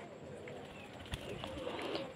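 Pigeons in a village coop coo softly over a steady background hum, with a faint low call or two rising briefly near the middle.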